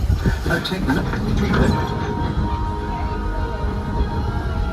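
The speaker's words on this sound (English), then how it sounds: "Locomotive maintaining trajectory." A Disney World train rolling along the rails, a steady rumbling clatter held at an even level for several seconds.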